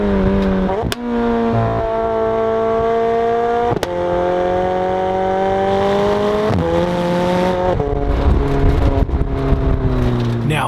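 A McLaren 720S with its twin-turbo 4.0-litre V8 pulls hard through the gears, rising engine pitch broken by sharp upshifts, loud and close with no voices.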